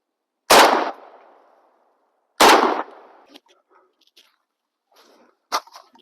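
Two loud shotgun blasts from a JTS M12AK firing Black Aces Tactical slugs, about two seconds apart, each with a short decaying echo, followed by faint clicks and a sharp metallic clack from the action.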